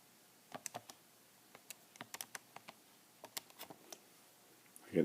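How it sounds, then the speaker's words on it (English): Quick, light plastic key presses on a handheld calculator entering numbers, a quiet irregular series of taps in small clusters in a near-silent room, ending in a louder fumbling rustle. "if I type that in my calculator here"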